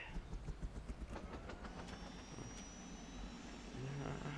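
A helicopter in the Saints Row 2 video game gives a faint, steady rotor chop with a broad rushing whine, the beating more pronounced early and smoothing into a continuous drone.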